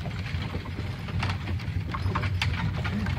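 Carriage horses on a ride through Cades Cove clip-clop steadily with close, crisp hoof strikes over a continuous low rumble, with no talk.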